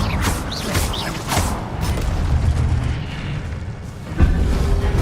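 An Incendio fire spell cast in the video game Hogwarts Legacy, a loud whooshing roar of flame with low booming rumbles, followed by a sharper burst near the end.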